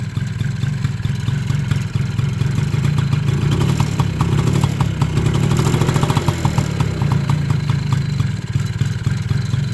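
A Honda Motocompo's small engine idles with the choke on, a steady close putter with a faint metallic clatter, running alone without talk for the whole stretch.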